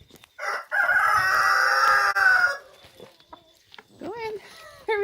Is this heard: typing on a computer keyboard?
no